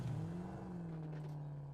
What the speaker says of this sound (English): get in the car